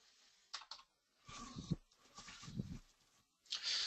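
Quiet computer keyboard typing in short bursts of clicks with pauses between them, close and soft, as a value is entered into an image resize dialog.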